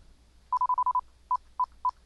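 Regenerated 1 kHz Morse code CW audio tone: a clean, pure beep keyed in a quick run of short dits followed by three spaced single beeps, close and alone over a low hum.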